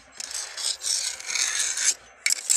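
Steady metallic scraping and rasping as a flat screwdriver pries at the leaking seal group inside the final drive of a Kobelco SK200-8 excavator, in close, continuous strokes with a short pause before a final scrape.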